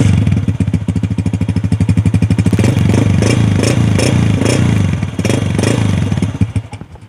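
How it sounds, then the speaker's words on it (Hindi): A 2010-model Honda 125 motorcycle starting up and idling nearby, its single-cylinder engine putting out a loud, steady, rapid putter that rises slightly with a few blips of throttle, with no talk over it. "होंडा 125 मॉडल 2010, साउंड भी सुना आप लोगों ने"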